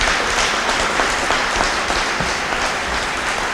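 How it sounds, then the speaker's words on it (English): A crowd at a celebration for a regional medical center's approval claps loudly and continuously, a close, dense patter of applause sustained for the whole stretch. "Can we give Brad Seaman a round of applause"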